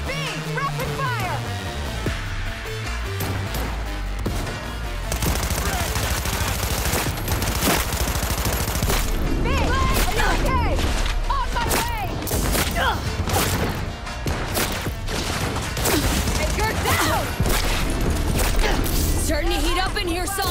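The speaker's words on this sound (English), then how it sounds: "Using a shotgun!" Shotgun gunfire in the video game Cyberpunk 2077 booms in loud, dense bursts with heavy thuds and crashes throughout a chaotic combat scene, mixed under a talking voice.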